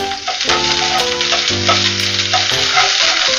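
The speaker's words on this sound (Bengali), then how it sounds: "এবারে আমি দিচ্ছি 1/2 টিস্পুন আদা বাটা।" Half a teaspoon of ginger paste fries loudly in a pan, a strong continuous sizzle running throughout, with steady tonal hums beneath it and no talking.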